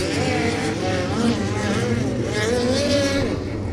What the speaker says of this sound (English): Doesn't look like anybody's going to be faster than Jason Persley, though, here in dirt track hot laps